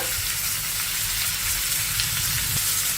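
Shredded cabbage and onions sizzle in a pan in a loud, steady, close-up hiss that never lets up.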